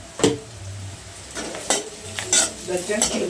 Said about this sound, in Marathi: तेलात व्यवस्थित परतून घ्यायचं.